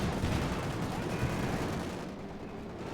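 Gunfire from a real-time strategy game battle, with dense, continuous crackling bursts and rumbling battle noise that fill the whole stretch at steady loudness and thin out slightly toward the end.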